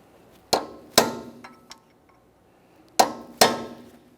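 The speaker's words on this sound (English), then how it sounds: "We're going to be using a hammer and punch to try to drive part of this nut down into that groove." A hammer strikes a punch to stake a wheel hub axle nut into its groove on a 2015-2019 Subaru Outback: two pairs of sharp metallic clangs with lighter taps between, close and ringing briefly, no talk.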